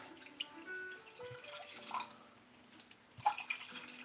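About 1.5 cups of water goes into a pot holding beef and sauce for Mongolian beef, a quiet, uneven trickle with a few drips and a brief louder splash near the end, with no talking.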